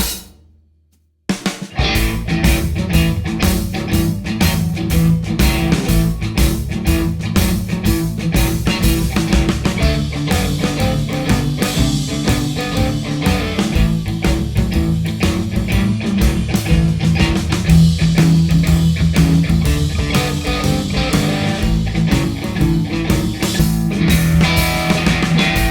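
Rhythm guitar chords strummed over a basic programmed drum loop in a 12-bar blues in A, steady and loud, running continuously after a brief silent start with no voice.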